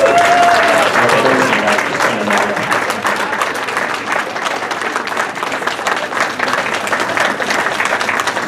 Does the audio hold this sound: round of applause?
yes